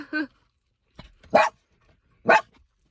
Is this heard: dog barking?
yes